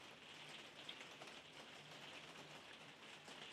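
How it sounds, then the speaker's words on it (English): Heavy rain falling steadily, a faint, even hiss of drops pattering on surfaces with no pauses and no voices over it. "It's starting to rain really heavy again."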